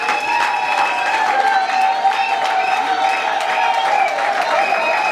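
Wedding guests applauding at a reception, steady dense clapping mixed with a bright musical tone and crowd voices, with someone talking over the noise.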